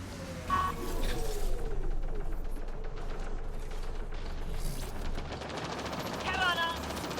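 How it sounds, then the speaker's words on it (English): Sustained heavy weapons fire rattles through a busy battle scene in the sci-fi video game Mass Effect: Andromeda, dense bursts of gunfire layered with mechanical noise and ambient effects. "Pathfinder, I detect heavy weapons fire nearby"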